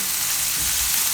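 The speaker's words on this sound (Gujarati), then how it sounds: "થોડીક વાર લસણની ભેગું શેકી લેવાનું." Garlic roasting in a pan for a red chilli and fresh turmeric vegetable dish, giving a steady, even sizzle with faint stirring underneath, close and continuous, no voices.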